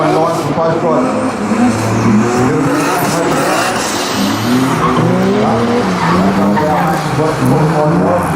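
An S13 and a P30 drift car skid side by side in a drift challenge final, tires squealing in long wavering howls over engine roar, loud and continuous, while a commentator talks over it.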